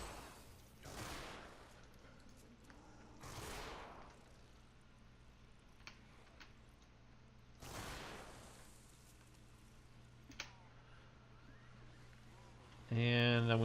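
Gunfire in a shooter video game as a character lands body shots, a few sharp reports with whooshing tails spaced several seconds apart over quiet background hum, with a louder burst at the end.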